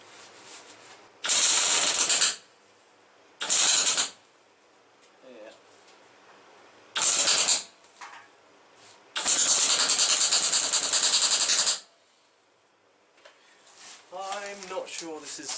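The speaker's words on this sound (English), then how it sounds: "Let's just weld it together from a few points now." Welding tacks a scrap-metal bike frame together at a few points: four harsh, crackling bursts of arc noise, three short and a final longer one, separated by quiet gaps, with a voice murmuring near the end.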